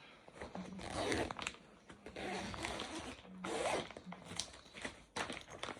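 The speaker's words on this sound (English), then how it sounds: "zip it." A large costume bag being zipped closed, with several quick rasping zip strokes close by and a few short pauses between pulls.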